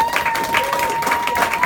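A comedy club audience claps for a stand-up set, steady dense applause sustained throughout at moderate loudness with no talking over it.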